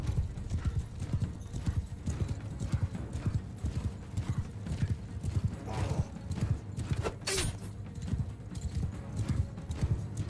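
Cavalry horses gallop across a Mount & Blade II: Bannerlord battlefield, steady rapid hoofbeats pounding close by with a brief whinny partway through and faint battle noise behind.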